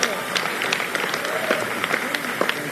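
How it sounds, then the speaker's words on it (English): An audience at a charity dinner claps in a dense, steady wash of applause, with crowd voices murmuring underneath. "Can we have a round of applause for Chuck Schumer?"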